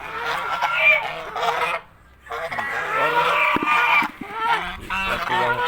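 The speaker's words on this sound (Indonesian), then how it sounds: "Ini bebek kita bang." Farm ducks at feeding time make a loud, dense chorus of honking quacks from close by, dropping briefly to near quiet before the noisy flock resumes.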